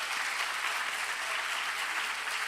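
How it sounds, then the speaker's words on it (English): Audience applause after the second round of a Poetry Out Loud school poetry recitation contest, a steady even wash of clapping from a sizeable crowd, moderately loud and unbroken for the whole stretch with no voices. "Let's give all of our contestants another round of applause."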